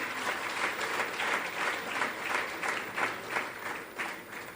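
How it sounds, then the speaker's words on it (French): Sustained audience applause fills the room at a Rwandan official gathering, dense steady clapping with rhythmic swells, moderately loud and continuous with no talk over it. "On peut applaudir pour lui."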